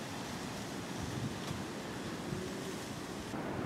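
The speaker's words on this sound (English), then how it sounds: "There's just so much wind, it's not getting hot enough." Strong outdoor wind buffets the microphone in a steady, dense roar of broadband rushing noise that stays loud and unbroken throughout, with no voices.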